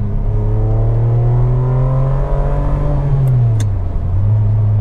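A Ferrari 550 Maranello engine revving high, a loud, deep, sustained roar that climbs steadily in pitch, then drops as revs fall, heard close with no talking.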